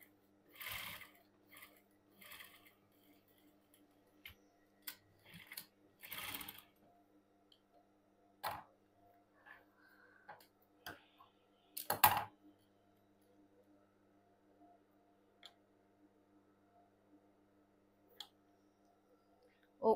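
A sewing machine stitching a cigarette pant runs in short, quiet bursts of rapid ticking, separated by pauses and soft handling clicks in a calm room.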